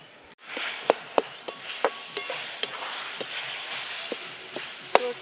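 Chopped tomatoes hit hot oil in a pan at an outdoor village picnic cookout, giving a steady close sizzle broken by sharp pops and spatters.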